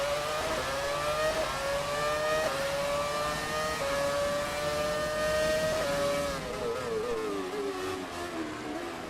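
A Formula 1 car engine in F1 2017, racing at the Italy round, whines at high revs in a steady sustained scream, with gear shifts stepping the pitch before it drops and rises again near the end.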